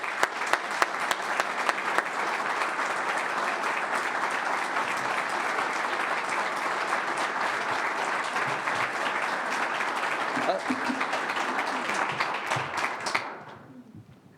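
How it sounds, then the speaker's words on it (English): Standing players at a football head coach's introductory press conference receive a long, sustained round of applause, with dense clapping holding steady for about thirteen seconds before cutting off abruptly. "I want to give these guys a round of applause"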